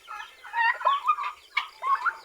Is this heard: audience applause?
no